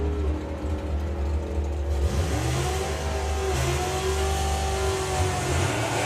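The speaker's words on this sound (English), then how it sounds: "Billy getting a bit carried away with his burnout" Drag racing car doing a burnout at Santa Pod Raceway: a loud, sustained engine roar with rising and falling revs and a rough, gritty layer of tire noise, close and continuous throughout.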